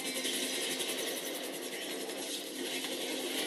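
A helicopter in the video game GTA 5 near a military base, its rotor chop a steady, dense whir with a faint pulsing beat, loud and continuous with no talk over it.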